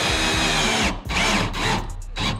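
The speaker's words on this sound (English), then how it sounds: "use my self-tappers and put in 4 screws right around the hole to hopefully either bring the bench top up or the plywood down" A power drill drives self-tapping screws into a plywood bench seat on a jon boat, loud whirring bursts in three or four runs with brief pauses between them, close by and alone.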